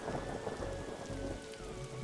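Steady rain from a thunderstorm in the detective game Darkside Detective, falling as a soft continuous patter with low rumbling underneath and a faint hum, heard quietly with no talking.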